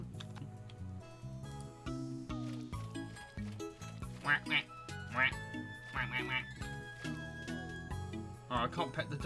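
Ducks quacking in the Pupperazzi video game, a series of bright quacks and tinkly chimes over soft, steady game music.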